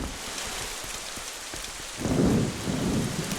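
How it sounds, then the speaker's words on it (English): Steady rain in the video game The Legend of Zelda: The Wind Waker, heard from indoors, with a deep rumble of thunder swelling about two seconds in and rolling on to the end. "thunder's loud as shit when you're inside"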